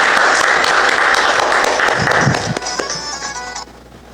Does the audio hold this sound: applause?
yes